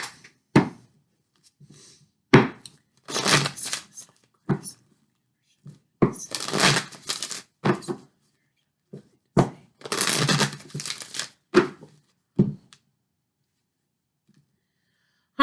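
Tarot cards for a love reading being shuffled up close, several bursts of riffling and flicking broken by quiet pauses, with no talking.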